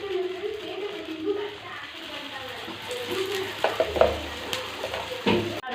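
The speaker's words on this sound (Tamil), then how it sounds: "கொஞ்சம் எண்ணெய் ஊற்றி தான் நல்லா வேக வைக்கணும்." Bun parotta cooking in oil on a flat pan, a soft sizzle with scraping and stirring clatter that builds toward the end, heard with some talk in the background.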